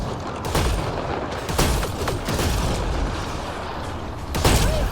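Incoming gunfire in Mass Effect: Andromeda, rapid bursts of gunshots and impact cracks in a sustained firefight, loud and close, with several sharper reports throughout.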